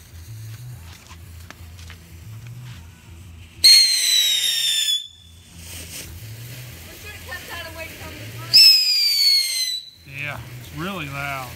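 Spunky Punk firework fountain from Shelton Fireworks going off, with two loud, shrill descending whistles of several seconds each and crackle at the end, over a steady low rumble, close by.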